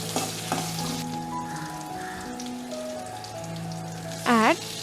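Turkey berry kootu with green chili and curry leaves hisses softly while being mixed in a pan, the steady sizzle running under sustained musical tones and a quick rising-falling whistle near the end.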